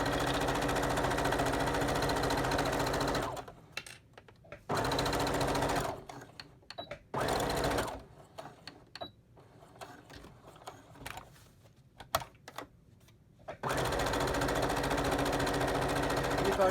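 A sewing machine stitches elastic onto a fabric mask in rapid mechanical bursts, loud and close, separated by pauses where a person speaks quietly over faint handling noises.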